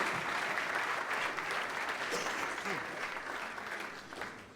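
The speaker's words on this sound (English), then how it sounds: "Big applause to my friend Lele Tui Samoa Lelaolu." Audience applause at an international conference on floating islands, a sustained crowd of hands clapping, distant and fairly soft, tapering slightly toward the end.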